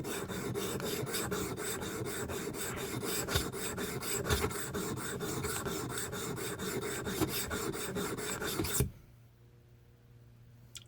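Chisel edge being sharpened by hand, a close, even rasping scrape repeated in quick regular strokes for several seconds, then stopping abruptly into near quiet.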